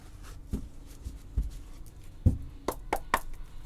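Tarot cards are shuffled in a stack during a reading, giving a few soft taps and riffling clicks, with a quick cluster of crisp card snaps toward the end, close and fairly quiet.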